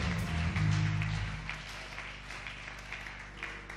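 Church congregation clapping and cheering in acclamation during a sermon series by Pastor Francis, a continuous crowd noise over a low droning hum, moderately loud and sustained.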